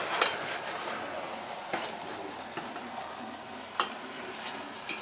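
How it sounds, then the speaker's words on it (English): Asparagus sizzles in a frying pan under a steady hiss, with a few sharp clinks of a utensil against the pan as it is stirred. "I definitely have some asparagus going that I need to stir"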